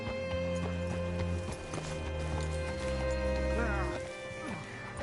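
Horse hooves clip-clop steadily in the Red Dead Redemption 2 video game, a continuous rhythmic plodding under a droning background tone, with game characters talking over it.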